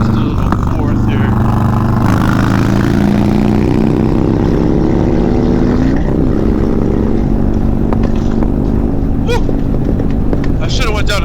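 A Harley-Davidson Softail Low Rider S with a 131ci Stage 4 engine and S&S intake pulls hard under acceleration, its loud, deep exhaust note climbing steadily, dipping briefly at a shift, then rising again, close to the rider throughout.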